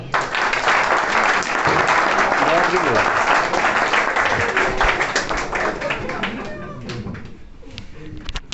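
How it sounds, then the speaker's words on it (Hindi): Audience applause at a college farewell party, dense clapping from a crowd filling the room and tapering off toward the end, with some voices mixed in. "तो सर सुहेब को दावत देते हैं आपकी भरपूर तालियों में।"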